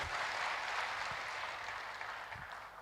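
A crowd claps in a sustained wash of applause, fairly faint and even, gradually thinning slightly toward the end.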